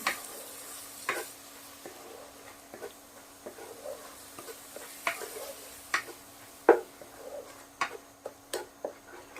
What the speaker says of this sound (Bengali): দিয়ে আমি মশলাটা এবার কষবো